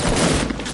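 Loud close gunfire from the Fortnite video game, a pair of sharp shots landing in quick succession within less than a second.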